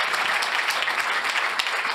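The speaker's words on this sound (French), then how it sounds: "on peut vraiment l'applaudir." Sustained applause from an audience at an insurance awards event, a dense, even wash of clapping hands filling the two seconds without letting up.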